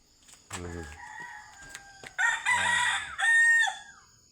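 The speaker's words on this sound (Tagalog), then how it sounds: "Yung aming manok ko. Tilaok at tilaok." A rooster crows loudly and close by, several drawn-out calls in a row with a short pause between them.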